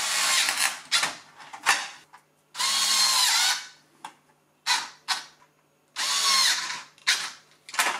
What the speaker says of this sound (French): Et on visse.